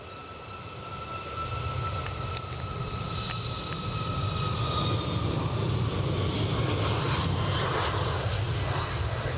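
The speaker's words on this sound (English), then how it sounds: "I would expect to see JetBlue pushing back pretty shortly" JetBlue aircraft pushing back at Edinburgh airport, engine noise swelling into a steady roar with tonal whines, building from moderate to louder and holding, no talking.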